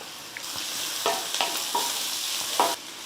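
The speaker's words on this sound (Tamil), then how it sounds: "பாருங்கள், வெங்காயம் வந்து வதங்கிடுச்சு" Onions sautéing in a pan, a constant close sizzle broken by a few spatula scrapes and stirs, no voices.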